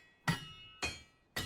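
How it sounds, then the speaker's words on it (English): A blacksmith hammers metal at the forge, three sharp, ringing strikes about half a second apart. Each blow is loud and close with a short metallic decay, and no one speaks. "Or hammer sounds on a black screen."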